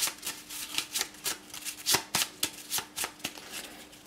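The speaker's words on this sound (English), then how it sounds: "we'll shuffle the treasure deck" A deck of treasure cards for the HeroQuest board game is shuffled by hand, a quick run of crisp riffling snaps and flutters repeating steadily for several seconds, close and clear with no talk.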